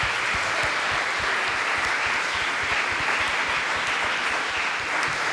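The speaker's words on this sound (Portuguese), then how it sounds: "Aplauda bem forte ao Senhor." A church congregation at a morning worship service applauds loudly, a continuous, dense roar of many hands clapping at once that holds steady throughout.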